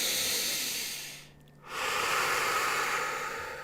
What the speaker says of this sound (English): taking some deep breaths in and out